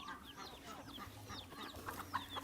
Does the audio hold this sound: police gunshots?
no